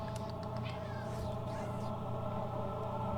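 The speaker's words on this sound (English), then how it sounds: "My cat hears me talking, so she's got to get her piece in as well" A cat meows faintly once or twice against a constant electronic hum and Factorio game sound, the cries soft and drawn out in the background.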